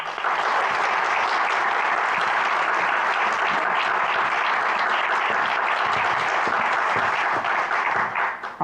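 A conference audience gives steady, sustained applause to welcome a keynote speaker. Dense clapping from a large crowd holds at an even level for about eight seconds, then tapers off right at the end.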